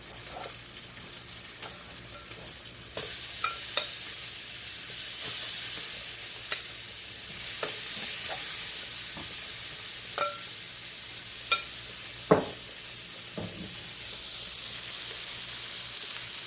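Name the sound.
peppers and onions sizzling in turkey sauce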